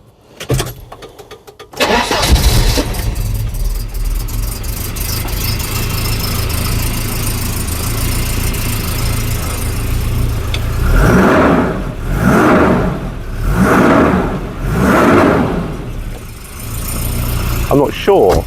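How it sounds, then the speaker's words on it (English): A Volvo 240 fitted with a welded hot rod exhaust tip cranks and fires up, then settles into a steady loud idle before a series of rising revs near the end. "Right, let's start it up, see if the exhaust is blowing."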